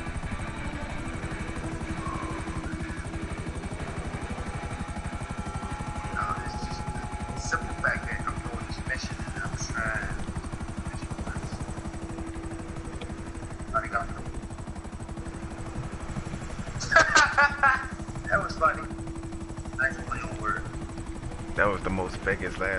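A helicopter flying in a video game, its rotor and engine drone running steady and fairly loud from start to finish, with a few sharper bursts breaking in near the end.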